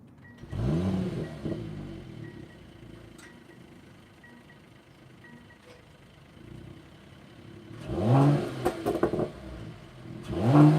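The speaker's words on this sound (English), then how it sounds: "this one does have the AMG Dynamic exhaust, so it has a bit more exhaust rumble." A 2021 Mercedes-AMG GT 43 4-Door Coupe engine with AMG Dynamic exhaust starts with a brief rev, settles into a low idle, then revs up again with a deep exhaust rumble.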